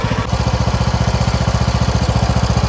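A Craftsman T1600 lawn tractor engine idles close by, a loud, steady, rapid chugging pulse that stays even throughout, with no talking.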